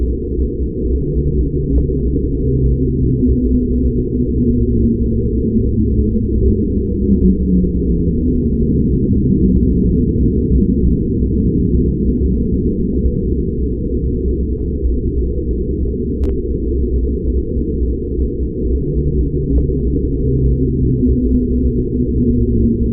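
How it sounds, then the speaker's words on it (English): A continuous low, droning underwater tone, sped up 16 times, with sweeping pitch lines gliding slowly downward, steady and eerie, with no voices. "The sound is like something from a horror movie as it descends in frequency over several minutes."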